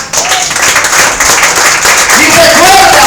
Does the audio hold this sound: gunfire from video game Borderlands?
no